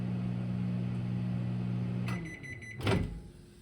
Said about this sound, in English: You can hear it crackling and popping too.